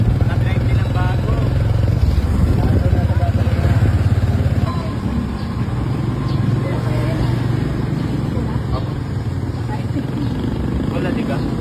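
A motorcycle engine runs steadily and loudly nearby, a continuous low rumble with traffic-like noise around it and no clear talk.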